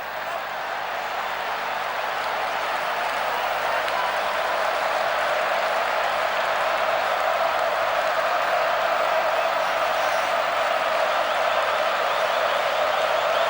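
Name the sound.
football stadium crowd cheering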